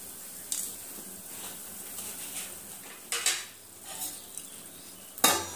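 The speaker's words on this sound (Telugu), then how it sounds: "ఇప్పుడు మ్యాగీ వేద్దాం" Maggi instant noodles going into a pan and being stirred, with a few scattered clinks and scrapes of utensil against cookware and a soft sizzle underneath, louder bursts near the start, middle and end.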